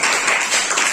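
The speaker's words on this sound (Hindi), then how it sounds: "ताली बजाइए।" A classroom of students claps hands together, a brief dense burst of applause at close range, loud and even with no voices.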